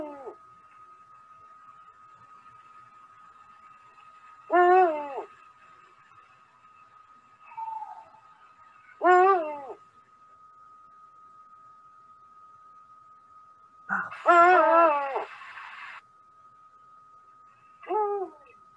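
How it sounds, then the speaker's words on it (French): Several deep, harmonic calls of a Eurasian eagle-owl spaced a few seconds apart rise over a steady high hum, each call short and fairly close. "le cri du hibou grand-duc"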